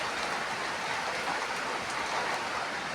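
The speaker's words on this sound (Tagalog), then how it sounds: "Lakas ng ulan." Heavy rain pours down in a dense, constant hiss, loud and unbroken throughout with no voices.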